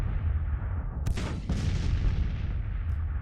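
Artillery fire in the video game Grand Tactician: The Civil War, a couple of sharp booming cannon shots over a rumbling battlefield background, moderately distant.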